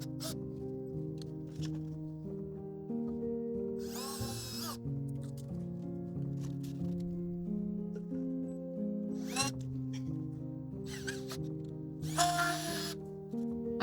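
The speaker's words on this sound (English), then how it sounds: "I brought a piece of cardboard just to put behind here so that I'm not drilling into the wall unnecessarily." A power drill bores into a wall while an IKEA Hemnes shoe cabinet is installed, in a few short, separate bursts heard over steady background music.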